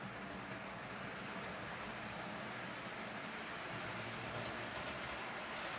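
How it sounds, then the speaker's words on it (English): A model train runs around a layout at speed step 18. It makes a faint, steady rolling rumble with a soft hiss that stays even throughout. "let me just speed the train up here a bit so it doesn't take too long to come around"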